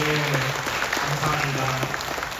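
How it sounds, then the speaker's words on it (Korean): A church congregation applauds in celebration, a sustained wash of many hands clapping at moderate volume while a voice speaks briefly over it. "우리 박수로 우리 축하하면서"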